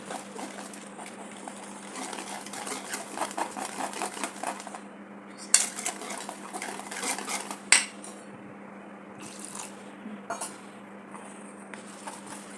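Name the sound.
mixing batter in a bowl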